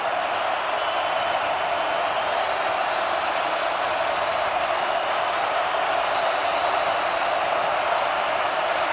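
A sellout stadium crowd at a Kansas State Wildcats versus Colorado Buffaloes college football game makes a steady, loud, sustained roar of cheering that holds evenly throughout, with no break or swell.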